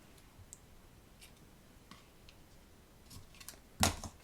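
Scissors make a few quiet clicks and snips while trimming ribbon ends, ending in one sharper, louder cut near the finish.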